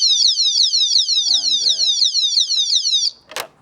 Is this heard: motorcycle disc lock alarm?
yes